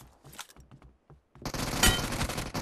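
PUBG Mobile gunfire: a few separated single shots at first, then after a short pause a dense, loud automatic burst of rapid rattling fire fills the rest.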